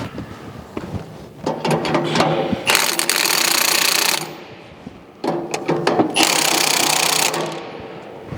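A rattle gun tightens the tension bolts on a Batco conveyor product belt. Close, loud bursts of rapid mechanical hammering come in two long runs, with softer whirring and clicking between them.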